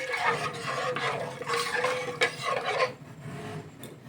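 Ghee-coated vegetables for a moong dal and potato sabzi are stirred in a pan, a steady scraping and rubbing of a spoon against metal that runs continuously, with a few sharper clinks, then quiets near the end.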